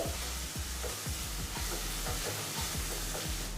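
Spice powders, pepper, turmeric and chili, being stirred into a sizzling pan for a dried-fish and field-bean curry, with steady frying hiss and repeated scraping strokes of a spoon, close and continuous.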